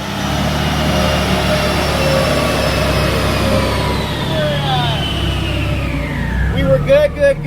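Turbocharged 1992 Honda Civic Si hatchback with a B18C1 engine revving hard on a dyno, a steady loud engine roar with a rising whine that climbs through the pull, then sharp pops near the end.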